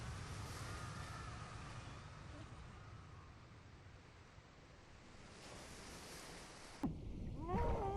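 Ocean water after a plane crash in the video game Bioshock, a continuous low, muffled underwater rumble and wash that swells and fades, ending with a couple of sharper splashing bursts near the end.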